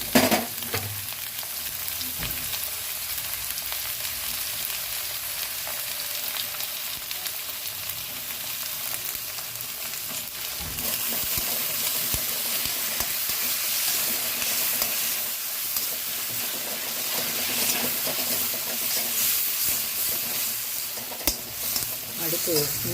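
Onions and curry leaves sautéing in a pan for ragi semiya upma, a steady close sizzle and crackle of frying with occasional stirring scrapes, continuous throughout with no talk.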